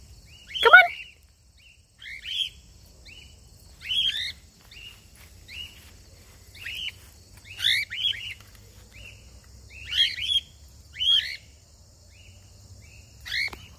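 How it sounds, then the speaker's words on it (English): A baby cockatiel chirps during free flight, giving short high, bright calls at irregular intervals across the stretch over a quiet background, fairly faint and somewhat distant, with no talking. "I don't see where the bird is. I just hear."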